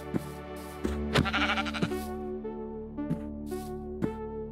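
Sheep in the video game Minecraft, Sevtech Ages modpack, bleat in a clear, nearby repeated call, followed by several short clicky game sounds spaced about a second apart.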